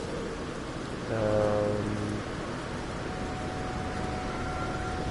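Steady rain falling on an alien planet in No Man's Sky, a constant soft hiss throughout with a brief low tonal game sound swelling in the middle.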